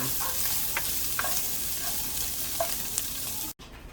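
Bacon fries in a pan with a steady, close sizzle and scattered pops and crackles, then cuts off abruptly near the end.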